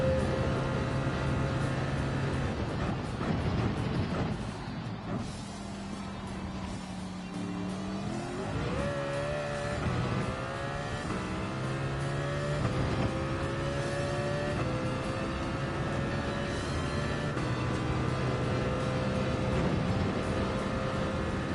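A Mercedes CLK race car's engine in Gran Turismo 7 drones steadily, with rising and falling revs as it shifts and accelerates through a lap, loud and continuous throughout.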